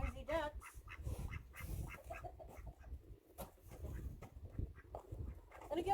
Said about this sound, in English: There's our noisy ducks.